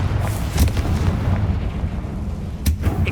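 Confringo fire spell blasts in Hogwarts Legacy, a dense low rumbling explosion with bursts near 0.6 s and 2.7 s, loud and close without speech.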